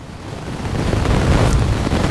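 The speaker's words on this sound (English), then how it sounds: "There's that wind." Steady wind gusts buffet the microphone outdoors near a lake after heavy rain, a loud, rough roar with no speech.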